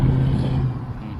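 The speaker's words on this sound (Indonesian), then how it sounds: "Ini mobil lewat rel kereta nih guys." A car rolls over railroad tracks, giving a steady low rumble of engine and tires at close range that runs unbroken through the brief moment, with no talk.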